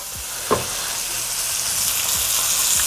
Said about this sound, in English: you're gonna baste the steak now